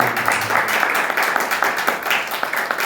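A congregation at Eternal Life Church in Bathinda claps for the Lord during a sermon, a loud and steady rhythmic clapping in brisk repeated beats.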